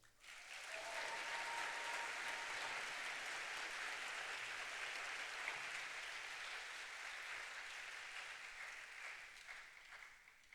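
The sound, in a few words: graduation audience round of applause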